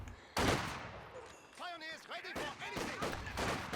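A volley of gunfire strikes Grenadiers in a strategy video game. A sudden loud burst of shots is followed by further rattling fire, and a voice speaks briefly in the middle.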